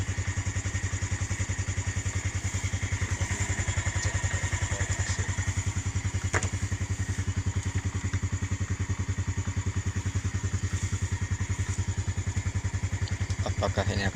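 Yamaha Jupiter motorcycle engine idling to charge a Honda Brio car battery, a steady, close, rapid putter with fine mechanical clatter that runs unbroken throughout.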